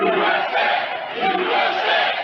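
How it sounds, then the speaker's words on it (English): An elated crowd cheers and roars at a Trump election watch party in West Palm Beach, Florida, a loud, continuous wall of many voices shouting together without a pause. "an elated crowd cheered as he took the stage"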